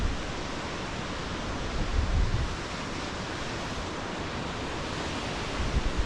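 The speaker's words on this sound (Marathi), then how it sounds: "काळू वॉटरफॉल आणि बाळू वॉटरफॉल मस्त" Kalu waterfall, viewed from the top, sends up a steady, dense roar of rushing water that fills the whole clip at an even level, with no voices.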